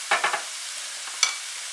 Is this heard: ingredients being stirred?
yes